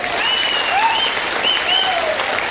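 An audience at a training program in Bongaigaon claps together for a speaker, a loud, dense burst of applause with a few whistles and calls riding over it for a couple of seconds.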